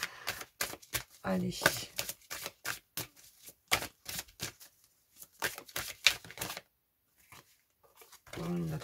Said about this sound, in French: Alors, on va prendre 2-3 cartes.